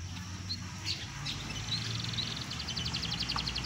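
Pet canaries chirp in rapid repeated trills during an anti-lice care routine, the bright twittering runs steadily through the clip over a constant low background hum, with no talk.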